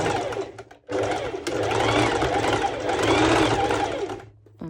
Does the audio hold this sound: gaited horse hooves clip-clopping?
no